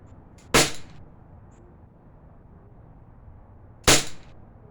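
Two sharp, separate pops from a Glock 19 blowback airgun being fired outdoors, each a crisp snap with a short mechanical clack, spaced a few seconds apart over quiet background.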